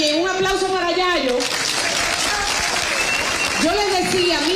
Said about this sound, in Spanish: Un aplauso para Yayo.